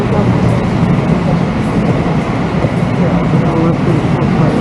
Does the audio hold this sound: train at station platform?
yes